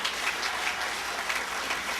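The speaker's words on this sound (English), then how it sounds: "another round of applause for the Huntington High School surf team" An audience claps for the Huntington High School surf team at a surfing walk of fame ceremony, a dense, steady wash of many hands that is loud and continuous throughout.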